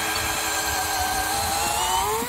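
A Bosch GSB185 LI cordless brushless impact drill drills continuously, loud and close, with a steady whine that rises slowly in pitch under load.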